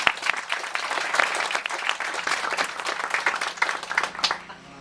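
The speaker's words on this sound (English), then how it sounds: "Would you give them all a round of applause one more time?" An audience at a dedication ceremony applauds the board, giving a lively, close burst of many hands clapping with uneven, crackling claps that taper off at the end.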